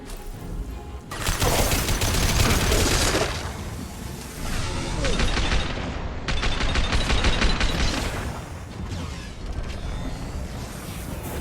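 Sustained bursts of rapid gunfire in the sci-fi shooter Mass Effect 2, loud and dense with brief lulls, mixed with mechanical clatter and faint voices underneath.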